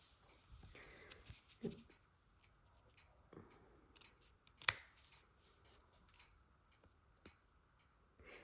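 Scissors snip through perforated paper while finishing a cross-stitch ornament, producing a few faint, sparse clicks and one sharper cut in a quiet room.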